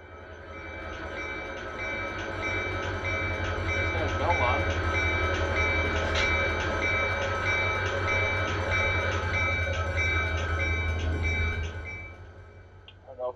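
Train running in the Run8 train simulator game: a continuous low rumble of rolling rail cars with steady tonal whistle-like hums layered above, building in and sustaining before tapering off near the end, with no talking.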